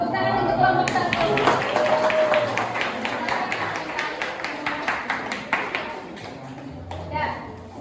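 An audience at a teacher-training classroom session claps for group 1, a roomful of hands applauding steadily for several seconds before tapering off, with a voice talking over it.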